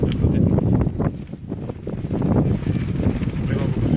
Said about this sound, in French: vraiment beaucoup de vent